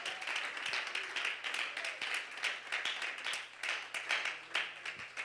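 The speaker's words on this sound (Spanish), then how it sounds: "Alguien lo puede aplaudir con todo su corazón" A church congregation applauds at a revival service, steady dense clapping running the whole time with rhythmic swells, moderately loud and fairly distant in a large room.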